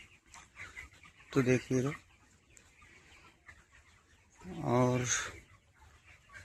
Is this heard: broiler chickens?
yes